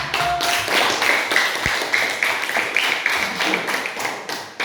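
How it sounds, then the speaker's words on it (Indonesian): Classroom applause for a student group after its presentation, a dense, steady patter of hand claps from a room of students that holds at an even level throughout, with a sharp tap near the middle. "Tepuk tangan untuk kelompok 1."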